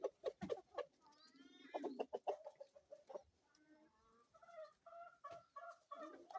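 Kienyeji hens on a Kenyan farm cluck and chatter in a busy, overlapping flock while being fed, close by with repeated short calls and a few drawn-out squawks.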